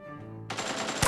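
Rapid automatic gunfire in the battle royale game Knives Out bursts in loudly after a short tonal game sound, a dense close burst lasting to the end.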